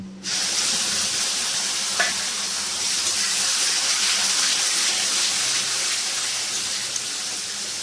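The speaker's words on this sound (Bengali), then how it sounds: "এর মধ্যে টমেটো বাটাটা দিয়ে দেবো।" Tomato paste with turmeric frying in hot oil, a steady close sizzle that starts abruptly and holds loud throughout, with a single brief stir or scrape partway through.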